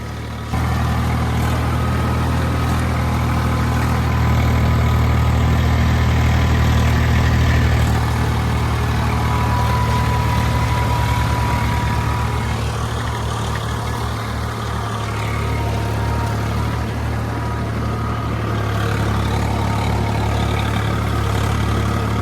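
A steady, heavy Swaraj 744 4x4 tractor engine drones continuously at a constant load while flattening field beds, loud and close, with no voices.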